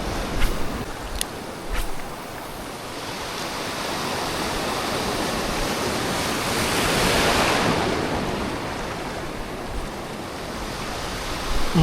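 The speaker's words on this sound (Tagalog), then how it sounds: "Hintay lang natin ang alon." Ocean surf breaks steadily along the shore during a fishing trip for snapper, a continuous wash of wave noise that swells and eases, with no voices over it.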